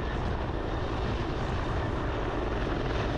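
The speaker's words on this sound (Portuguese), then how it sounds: "Helicópteros sobrevoaram toda a região." Helicopters fly over a rural area during a large police manhunt, a loud, steady engine and rotor roar that fills the whole stretch without letup, close and constant with no voices.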